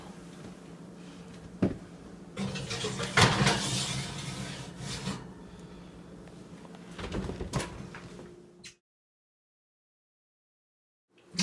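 Oven door handling while a keto spinach bacon dip goes into the oven: scattered knocks, scrapes and clunks of the door and dish, with a louder bang near the end before a brief silence.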